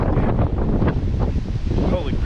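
Strong gusting wind from a monsoon dust storm sweeping over a small city roars and buffets the microphone continuously, loud and close, with a voice talking briefly under it.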